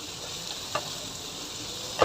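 Prawns, fishballs and tofu fry in a pan with a steady, close sizzle and a constant hiss of hot oil, punctuated by two brief scraping stirs, with no talk over it.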